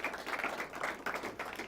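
Audience applause for the Edinburg North quiz team at a school academic competition, a short burst of dense clapping from a small crowd, fairly close and steady.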